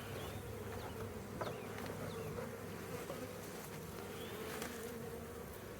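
Honeybees buzzing steadily during a hive removal, a dense close swarm hum with individual bees darting past, continuous and fairly quiet, with no voices.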